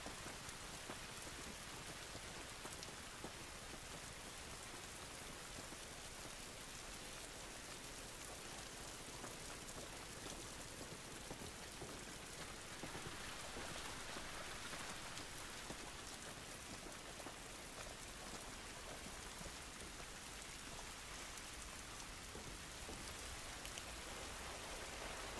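Steady rain in the video game The Last of Us Part II, a dense, even hiss of drops pattering on surfaces outdoors, continuous and fairly loud with no break throughout.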